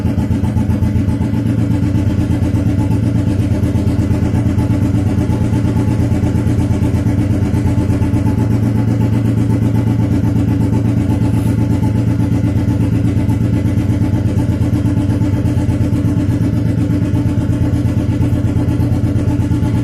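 A Royal Enfield cast iron 350/500 single-cylinder motorcycle engine warming up at a steady idle, loud, close and continuous for the full length with no talk.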